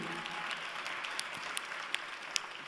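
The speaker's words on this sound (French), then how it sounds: "Vos applaudissements peuvent faire office de plébiscite" Applause at a political party's founding assembly sounds distant and soft, a diffuse patter of many hands with a few sharper individual claps standing out.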